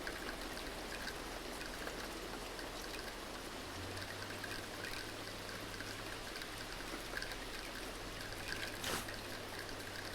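In the video game Press Any Button, water pours and trickles in a steady, faint hiss that runs throughout. A low tone joins partway through.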